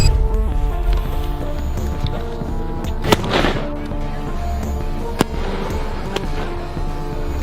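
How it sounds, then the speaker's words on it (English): Fireworks go off outside, heard as a dense crackling rumble with a sharp burst near the middle and a few later pops, mixed with tonal background sound. "Oh, it's fireworks."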